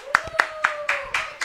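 Six sharp, separate hand claps land at a steady pace, close and fairly loud, over a faint sustained tone. They applaud Pastor Jairo Maduro at a food truck show.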